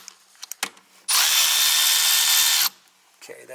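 A power drill spins an 8 mm socket to loosen the screw clamp on a Jeep's intake tube during a thermostat replacement, one loud, steady whir lasting about a second and a half between brief handling clatter.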